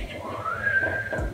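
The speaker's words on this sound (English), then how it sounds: "Can you whistle?" A person whistles a single sustained, slightly rising tone lasting about a second, close and moderately loud over faint room noise.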